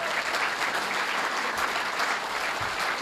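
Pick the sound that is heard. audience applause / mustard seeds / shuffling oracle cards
audience applause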